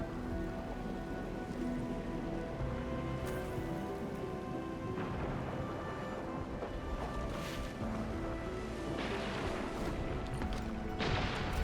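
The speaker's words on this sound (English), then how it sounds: "It's raining harder. I can't hear anything except for the rain." Heavy rain falls in the video game Arknights Endfield, a continuous dense hiss with low rumbling beneath and occasional louder splashy gusts, with no speech over it.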